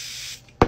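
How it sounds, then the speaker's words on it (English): Aerosol face spray, a steady hiss lasting about a third of a second at close range, then a louder sharp knock or tap right after, with no talking. "I'm gonna use the spray to wake me up"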